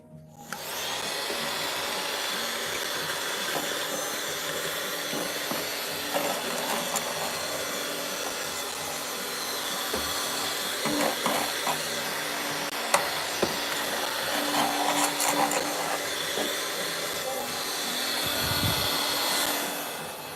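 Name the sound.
vacuum sucking up leaf cutter ants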